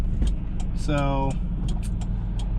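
The 2.0 turbo engine of a 1G Eagle Talon lets out a short, high belt squeal, less than half a second long, over the close, steady rumble of the running car.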